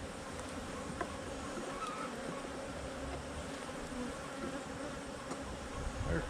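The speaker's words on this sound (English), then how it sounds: "There's plenty of bees in here to" Dense, continuous buzzing of honey bees inside a hive, a steady mid-level drone with no talk.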